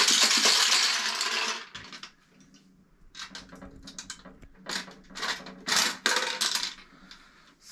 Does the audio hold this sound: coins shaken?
yes